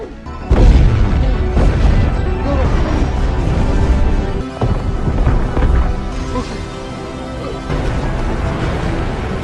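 A big explosion from the Blue Beetle film erupts as a loud, booming crash with heavy low rumble, followed by continuing debris-like smashes and roaring noise that stay loud throughout.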